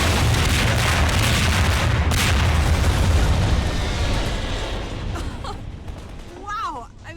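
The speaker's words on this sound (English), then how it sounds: "I don't know how you would do this without being able to fire the rocket launcher." A rocket launcher is fired in Half-Life 2: Episode One, giving a loud, sustained explosive roar and rumbling debris that slowly fades, with faint chirps near the end.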